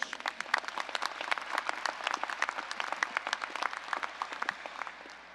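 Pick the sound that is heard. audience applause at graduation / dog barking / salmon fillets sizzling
audience applause at graduation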